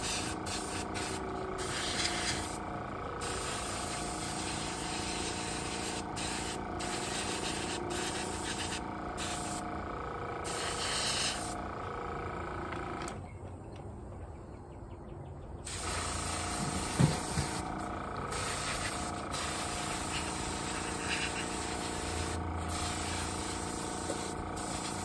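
A spray can hisses in near, steady bursts, with a long continuous spray broken by a short pause midway.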